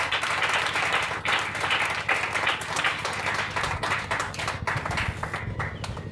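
A church congregation claps in praise during a Sunday service, a dense, steady run of many hands clapping together for several seconds with no talk over it.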